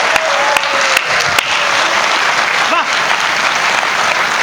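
Steady applause from an audience at a Hindi comedy poetry show, a continuous dense clapping wash at close range with a few sharper individual claps standing out.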